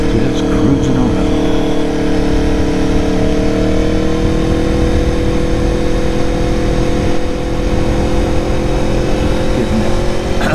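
An Aprilia Tuono motorcycle cruises on a Christmas Day ride, its engine giving a loud, steady drone mixed with strong wind rush throughout.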